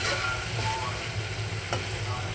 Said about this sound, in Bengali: বাসায় থাকা মশলা দিয়ে কষায় নিলাম।